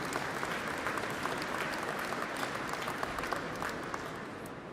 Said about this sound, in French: je pense qu'on doit une bonne main d'applaudissement à tous ces gens-là